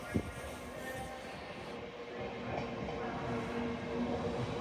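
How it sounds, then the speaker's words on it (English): An LNER Azuma train pulls into York station, a low steady rumble and wheel drone rising slightly as it arrives, with a sharp clunk at the start and faint squeal tones over the platform ambience. "Arrived in now, 1219 LNER Azuma service from London King's Cross to Edinburgh Waverley"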